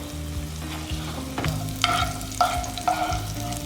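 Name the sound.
paneer frying in oil, scooped out of pan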